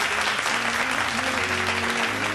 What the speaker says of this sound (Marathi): जोरदार टाळ्या मेघाताईंसाठी आपण वाजवूया.